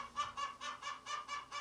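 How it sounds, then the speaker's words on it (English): Backyard chickens at a home garden call out in a rapid, regular series of about eight loud honking clucks, close by and without talk. "The chickens aren't happy that we're having a visitor, so they're a little vocal right now."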